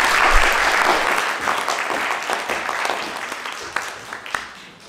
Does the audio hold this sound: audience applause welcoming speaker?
yes